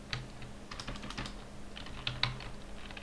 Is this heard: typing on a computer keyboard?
yes